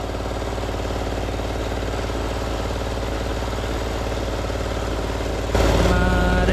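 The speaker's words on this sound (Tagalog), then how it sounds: "Kung maririnig nyo, ang andar niya mahina" A two-stroke generator engine runs steadily with a fine, even idle close by, then grows noticeably louder and higher-pitched near the end as the throttle opens.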